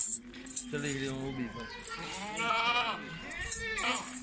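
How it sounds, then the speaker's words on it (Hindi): A goat bleats on a farm, several wavering, nasal calls rising and falling nearby, with other animal cries and faint clinks around them. "ये बकरी माशाल्लाह अच्छी बकरी है"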